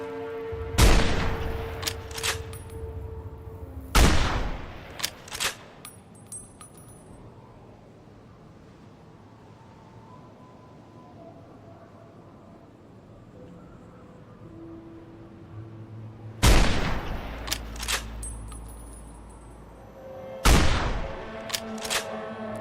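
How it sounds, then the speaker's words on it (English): Heavy anti-materiel rifle fire aimed at a deathclaw in Fallout New Vegas, Lonesome Road: a pair of loud booming shots, a long lull, then two more booming shots, all without talk. "This anti-material rifle doesn't do as much damage as I would think."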